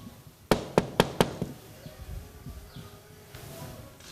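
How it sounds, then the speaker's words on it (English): Knuckles rap four times on a house door, sharp, evenly spaced knocks close by, followed by quieter scattered thumps and faint background noise. "I think I can knock from here, so I'm going to try and knock from here."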